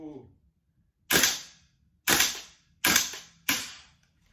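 Gas blowback airsoft rifle firing in freezing cold of minus 14 Celsius, four sharp snapping shots with short metallic decay, spaced irregularly about a second apart, close and loud in otherwise quiet surroundings.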